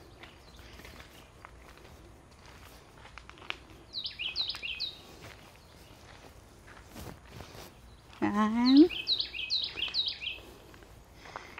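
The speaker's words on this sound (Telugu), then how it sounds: "ఇక్కడ బర్డ్స్ చక్కగా సౌండ్స్ చేస్తూ ఉన్నాయి" Wild birds chirp and trill near a river by tree house cabins in New Braunfels, Texas. Two short, bright bursts of song stand out over soft outdoor ambience, footsteps and brief talk.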